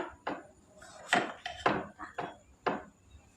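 A kitchen knife slicing eggplant on a cutting board makes about six crisp chopping strokes at an uneven pace. The cuts are close and fairly loud, and there is no talking.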